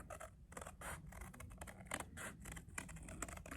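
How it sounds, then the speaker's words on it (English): Repeated crisp snipping and rustling of scissors through paper, a quick irregular series of cuts close by. "then you're gonna want to cut it out using your scissors"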